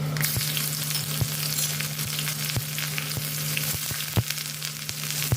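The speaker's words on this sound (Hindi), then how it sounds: "गरम सरसों के तेल में मेथी हरी मिर्च का तड़का लगा दिया" Fenugreek seeds and green chilies sizzle and crackle steadily in hot mustard oil, with occasional sharp clinks of a utensil against the pan and a low steady hum.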